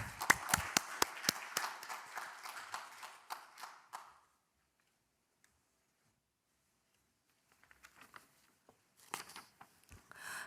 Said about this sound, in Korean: 서정숙 의원님을 여러분 큰 박수로 맞아주시기 바랍니다